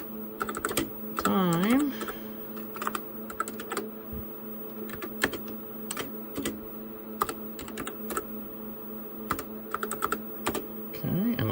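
Rapid clicking keystrokes on a computer keyboard at a TRS-80 Model 16 running XENIX, steady and fairly close, with a brief voice and a rising electronic tone early on and a humming machine in the background.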